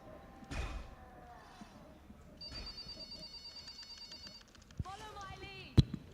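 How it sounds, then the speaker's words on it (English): An office-style telephone ringing in a repeated electronic trill, heard around a thumping knock and other clatter, under faint background sound at a charity gaming stream. "I still maintain that sounds like an office phone."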